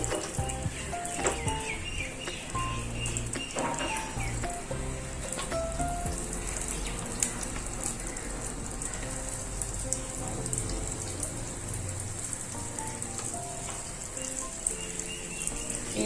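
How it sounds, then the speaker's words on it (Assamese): Raw banana slices coated in rice flour fry in oil over a lowered gas flame, a steady soft sizzle and crackle with faint scattered pops, quiet and continuous throughout. "অলপমান ৰঙচুৱা হোৱালৈকে ভাজিব লাগিব"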